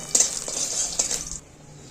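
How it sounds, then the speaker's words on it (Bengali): Lentil dumplings (bori) fry in a wok with a bright hiss of hot oil and a few light clinks of a spatula, close by, stopping abruptly after a brief moment. "বড়িগুলো ভেজে তুলে নেব বড়িগুলো একটু লাল করে ভেজে তুলে রাখবো"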